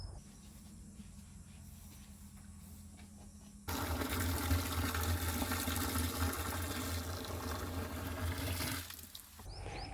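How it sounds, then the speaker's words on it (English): Water gushes in a loud, steady rushing stream into a 200-liter Jeevamrut concoction, starting abruptly after a quieter stretch and continuing nearly to the end. "we add 190 liters of water to top it up to a 200-liter concoction"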